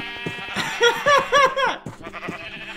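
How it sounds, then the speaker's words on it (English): Sheep in a video game bleat repeatedly in a lively overlapping flock, several loud wavering calls in quick succession, closely spaced and near. "Oh my, the sheep are just going everywhere"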